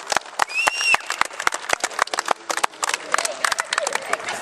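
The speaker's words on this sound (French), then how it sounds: "Des applaudissements pour eux." Scattered clapping from a crowd at a teen dance competition show, with sharp individual claps and light cheering that grows denser toward the end.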